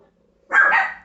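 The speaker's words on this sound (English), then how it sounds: "the dogs barking in the background" A dog barks in the background: a single sustained, moderately loud bark or short bark burst after a half-second of near silence, with no talk over it.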